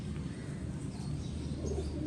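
Pigeons in a loft coo softly in low, murmuring repeated calls, a quiet, throaty burble that continues steadily with no talking over it.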